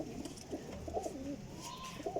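Golden teddy pigeons, champion flying birds kept at a loft in Sarai Alamgir, Jhelum, coo softly and steadily amid low background rustle, with no talking.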